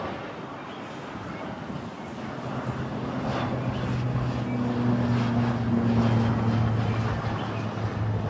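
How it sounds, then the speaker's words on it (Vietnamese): A Beechcraft King Air 350 turboprop calibration aircraft at Long Thanh airport rumbles steadily with a low droning engine tone that swells gradually louder as it nears, alone with no talk. "đây là chiếc King Air 350, chiếc máy bay thực hiện bay hiệu chuẩn tại sân bay Long Thành"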